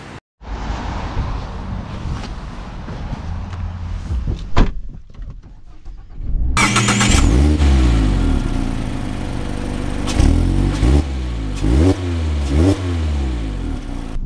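A 2024 Mazda Miata Sport with a manual gearbox drives along, its engine first steady then revving hard from about six seconds, climbing and dropping through gear changes, loud and close throughout with no talk.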